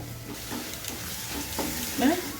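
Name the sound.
onions sautéing and being stirred in a pan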